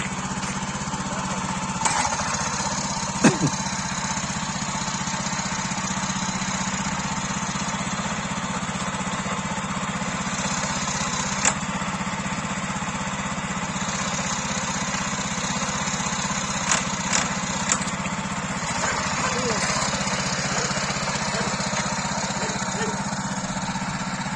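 Super-MTZ tractor engine running steadily through a test drive, a continuous close mid-pitched drone with a few brief clatters and knocks over it, no one talking.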